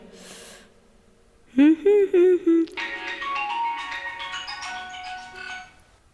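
A phone rings with a repeating electronic melody after a few short bursts, loud and close, with breathy sounds before it.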